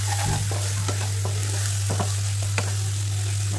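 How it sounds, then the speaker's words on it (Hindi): Tomatoes cook in oil with fried onions and salt, giving a steady sizzle over a constant low hum, with occasional soft stirring clicks and scrapes. "अब टमाटर डाल के पकने देंगे जब तक ये तेल ना छोड़े"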